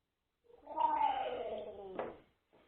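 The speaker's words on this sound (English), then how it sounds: "Sorry, Fat Cat was trying to join the table" A cat at a game table lets out one drawn-out, close meow lasting over a second, ending in a brief throaty trill, with faint voices near the end.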